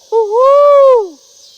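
A person imitates an owl's hoot outdoors by a pond, giving a single loud, close, sustained hooting call that rises slightly and then slides down, with no other talk.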